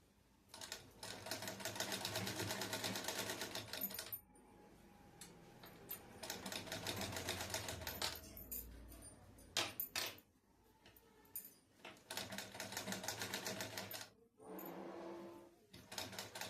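Tailoring sewing machine stitching fabric with a half-inch seam margin, running in long steady bursts of rapid mechanical chatter broken by short pauses and clicks, close and fairly quiet.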